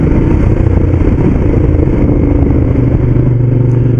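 A Ducati Diavel Black Carbon motorcycle in sport mode, holding third gear near 3,000 revs, gives a steady, loud, close engine rumble that holds even throughout with no pause.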